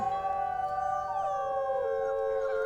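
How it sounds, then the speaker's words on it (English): A wolf in the WolfQuest video game lets out one long, sustained howl that slides gradually downward in pitch, loud and close, with no talking. "I'm just gonna do a quick howl"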